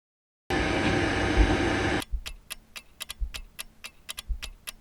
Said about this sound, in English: Now I'm going to mix this with a dough hook